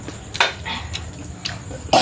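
A person with a cold coughs a few times in short, brief bursts, fairly close, with quiet background noise in between.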